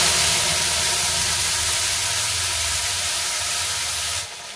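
Ground spice paste sizzles loudly in a hot pan for a fish curry, a dense steady hiss that holds until it drops off abruptly at the end, with no talk over it.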